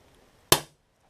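A single sharp, close crack from an airgun powered by whippet cream chargers, decaying quickly in the quiet around it.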